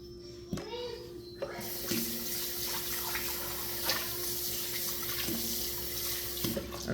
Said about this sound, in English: I'm just putting it in clean water.